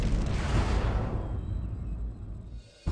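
A massive explosion over the central Siberian forest at Tunguska: a deep, loud blast with a rumbling roar that slowly decays over a couple of seconds, then a sudden cut to a fresh burst at the end.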